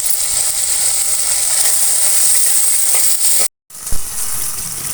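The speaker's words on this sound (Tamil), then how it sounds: "இப்போ நம்ம தக்காளியை இதில் சேர்த்துக்கலாம்" Tomatoes cook in a pan with a steady loud sizzling hiss and light stirring scrapes, briefly cut off by a short gap before the frying resumes with a knock, close and without talking.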